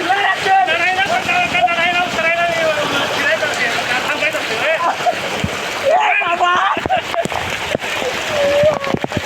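Heavy rain pouring steadily in a dense splattering hiss, close and loud, with voices talking over it throughout.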